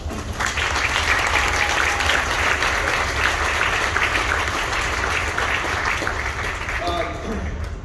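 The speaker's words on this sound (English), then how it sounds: "Can we give them a round of applause?" An audience at a university marching band's end-of-season concert bursts into loud, sustained applause that fills the whole stretch, with cheering voices mixed into the dense clapping before it thins slightly at the end.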